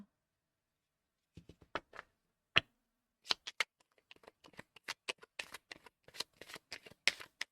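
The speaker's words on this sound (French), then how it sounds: "Je suis pas encore dans les cartes. Je les dépose." Tarot cards are shuffled and laid down on a surface, starting with a few sparse taps and building into a steady run of close, crisp riffling and flicking in a quiet room.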